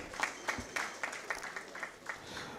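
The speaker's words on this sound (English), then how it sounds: "Please, let's clap for him." Applause from the audience at an annual general meeting comes as a quiet, fairly sparse patter of hand claps. It is soft and somewhat distant and lasts a few seconds.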